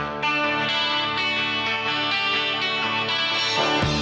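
A bright, jangly electric guitar plays a riff continuously with full ringing chords and a touch of chorus, loud and up front.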